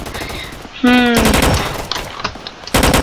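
Rapid weapon fire in a Roblox shooting game comes in loud, dense bursts separated by short gaps, with a brief electronic tone partway through.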